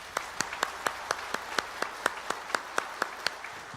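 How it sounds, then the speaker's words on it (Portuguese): Men of a church congregation clap during a Sunday morning service, producing a steady, fairly even series of about fifteen sharp claps at a moderate tempo. The claps ring out over a quiet hall, with no one speaking over them. "Eu vou pedir que só os homens aplaudam, e aplaudam dobradamente."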